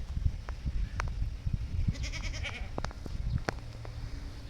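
A young female Alpine goat kid bleats a few times amid barnyard shuffling and clatter, the calls fairly close and distinct against quiet background noise.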